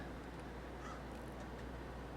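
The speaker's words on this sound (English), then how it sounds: "Crows are never a good sign." Crows caw faintly in the distance in Fallout 4, a few scattered calls over a steady low ambient hum.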